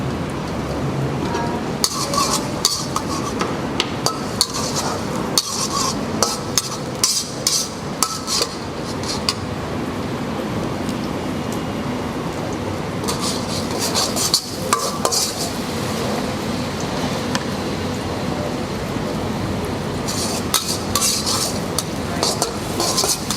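Shallots go into a pan and get stirred for Malaysian mee goreng mamak, with steady metal clinks and scrapes of utensil against pan running throughout, busy and close.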